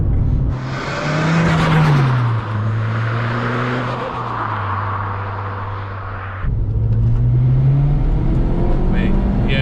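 Ford Fiesta ST150 fitted with a turbo kit accelerating hard, a loud, close engine note rising and holding through repeated pulls, with a brief break before it climbs again; people talk over it.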